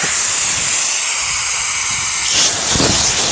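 Loud, steady hiss of air rushing out of a deflating stand-up paddleboard, close by, with the rush shifting in tone near the end.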